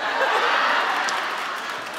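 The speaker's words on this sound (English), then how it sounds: "We got claps and a standing ovation" Studio audience applause and cheering during a standing ovation, a dense, steady wash of many hands clapping that fills the whole moment at even loudness.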